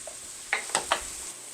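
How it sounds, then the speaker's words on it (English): Cabbage browning and sizzling in a hot pan for a creamy vegan Hungarian paprikash. A steady, soft frying hiss runs throughout, broken by three quick stirring scrapes near the middle. "I leave the cabbage pressed down at the bottom of the pan so it can brown"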